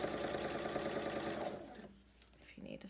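A sewing machine stitches steadily down the length of a pocket for about a second and a half, then stops, leaving quiet room noise with faint voices.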